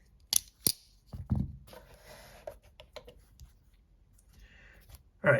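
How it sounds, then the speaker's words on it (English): Demko AD20 folding knives, including Ultem and fat carbon custom versions, snap closed one after another in a few sharp, close clicks with soft handling rustle between them. "So let's fold everyone up here and get them on the scale."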